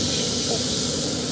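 Steak searing in a cast iron pan on a Z-Grills Cruiser 200A portable wood-pellet grill gives a steady, close, even sizzling hiss that holds without a break through the whole short stretch.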